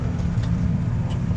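Car engine hums steadily at moderate loudness with road rumble while driving up a narrow scenic road through woods, a brief continuous stretch without talk.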